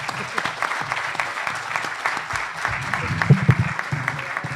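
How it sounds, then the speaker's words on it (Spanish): Audience applause at an event launching accessible school books: a sustained wash of many hands clapping with some louder individual claps near the front, with a voice speaking in Spanish over it. "espero ahora tener un aplauso igual que el principio, o un poquito mejor"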